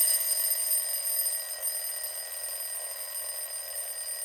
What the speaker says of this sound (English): it was an alarm clock.